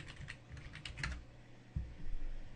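A short burst of quick keystrokes on a computer keyboard, fairly faint and close, followed by a couple of duller thumps and room noise, with no one speaking.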